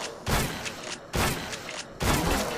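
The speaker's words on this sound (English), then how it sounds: "Sawed off shotgun. That's kind of fun." A sawed-off shotgun in the top-down shooter Crimsonland fires three heavy, booming blasts at an even pace, each with a sharp crack and a short rumbling tail, loud and close.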